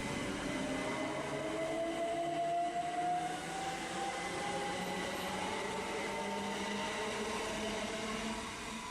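A C2C train running from Southend Central to London Fenchurch Street makes a steady, loud rolling rumble from start to finish, with a faint wheel squeal rising over it.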